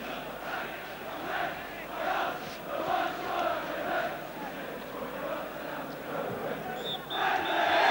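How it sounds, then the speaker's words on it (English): Oxford United supporters cheering and chanting in a stadium during a League Cup tie against Arsenal, a steady broad crowd roar that swells toward the end, with no nearby talk. "the Oxford fans are cheering again"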